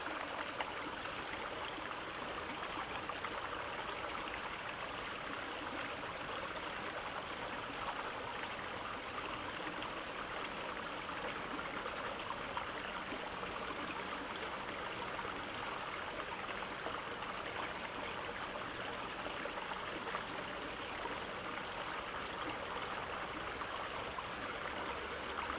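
Water flowing in a forest stream near a castle ruin, a steady, quiet babble and trickle that continues evenly throughout with no voices.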